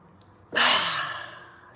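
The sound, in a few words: deep breath inhaled then exhaled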